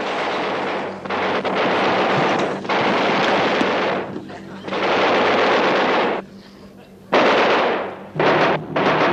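Sustained bursts of heavy gunfire in a battle scene, loud broadband volleys running for several seconds with short gaps between them, close and harsh.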